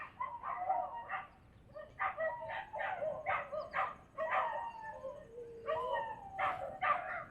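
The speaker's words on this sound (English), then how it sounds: "you hear the dogs howling?" Several dogs howl and yelp outdoors in repeated overlapping bursts at moderate distance, with short pauses between the groups of cries and no talking.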